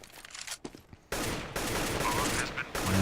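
Rifle fire erupts during a kill replay in a Counter-Strike match, with a dense, sustained burst of shots after a brief quiet lead-in of scattered clicks and faint sounds.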